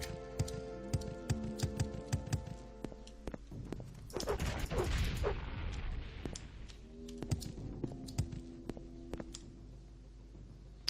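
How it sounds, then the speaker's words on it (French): Several nix-hound creatures in the video game Morrowind, heard as scattered clicking, tapping footfalls and growling creature noises, with a louder burst of activity in the middle and quieter clicks around it, no talk. "Là, il y a plusieurs chiens de Nyx en tout cas."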